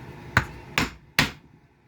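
A one-prong chisel is hammered into leather for a knife sheath, three sharp, evenly spaced taps about half a second apart, close and moderately loud.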